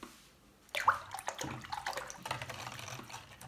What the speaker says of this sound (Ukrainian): тому я доливаю туди кип'ятку